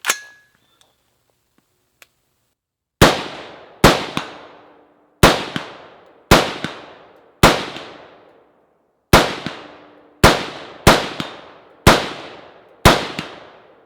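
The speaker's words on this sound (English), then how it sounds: "put it back on the rifle, and then shoot another 10 rounds down range" Ten sharp rifle shots from a rifle fitted with an Aimpoint CompM4S optic crack out loud and close at uneven intervals, each followed by a short ringing decay, after a few seconds of near silence with small handling clicks.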